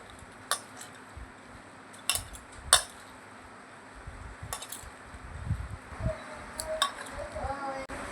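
Sour curd, water and batter are mixed by hand in a bowl with soft squishing, and sharp clinks of a spoon or bowl come at irregular moments. Someone talks at times.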